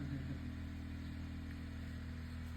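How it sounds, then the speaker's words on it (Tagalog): A car engine idles nearby at a festival, a steady low rumbling hum that holds evenly throughout with no other sounds rising above it. "Ay, yung sasakyan ang marinig."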